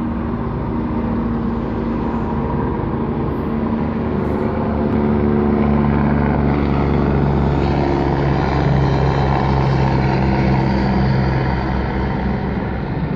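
Helicopter flying overhead, a loud, steady rotor and engine drone that swells slightly midway and holds throughout without voices.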